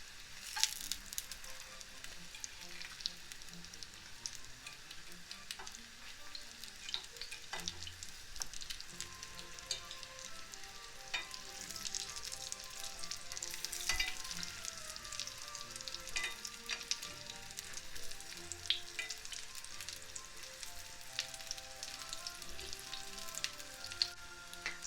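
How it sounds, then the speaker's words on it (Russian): Meat-filled pancakes frying in a pan over low heat, a steady soft sizzle and crackle with scattered small pops, continuous and fairly quiet throughout, no talking. "Обжариваем на небольшом огне."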